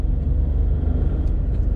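A 2018 VW Up TSI car accelerates, its engine giving a loud, close, steady low rumble with a dense roar throughout and no speech.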